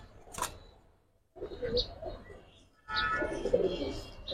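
Giribaz pigeons, silver and colored birds offered for sale, coo in a few close bursts separated by short pauses.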